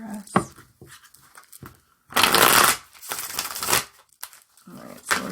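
A deck of oracle cards being shuffled by hand, with several bursts of riffling and sliding card noise between quieter pauses, close to the microphone and mostly alone.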